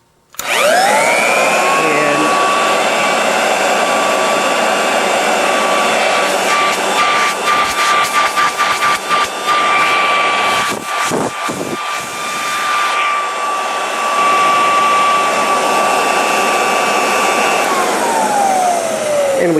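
A Kirby 514 upright vacuum cleaner runs as a blower, spinning up to a loud, steady whine that holds for a long stretch with a brief flutter midway, then winds down at the end.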